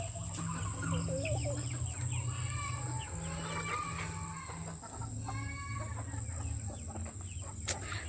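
Several chickens, sick with colds during rainy weather, cluck and murmur together in a steady, busy farmyard chorus, with an occasional distant crow, fairly close and continuous.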